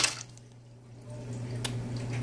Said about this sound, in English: That was a big splash.